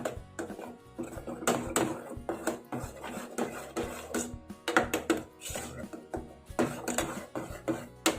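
Mung beans in syrup being stirred in a pot for Thai mung bean pudding, with repeated scraping and clinking of the utensil against the pot in an uneven, close, fairly loud rhythm.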